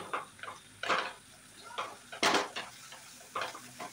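Egg curry masala with cumin powder and a splash of water stirred in a pan, irregular metallic scrapes and clinks of a spoon against the pan, fairly quiet with a faint hiss.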